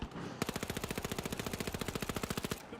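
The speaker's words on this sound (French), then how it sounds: "Je tire dessus." Automatic gunfire in the video game The Finals, one steady rapid burst of about two seconds with evenly spaced shots, loud and close, with no voices over it.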